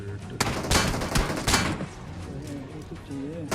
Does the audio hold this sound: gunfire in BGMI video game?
yes